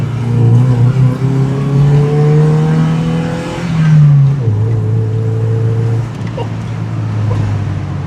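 A car engine revs up hard and climbs in pitch, drops briefly as a gear changes, then pulls again, loud and close.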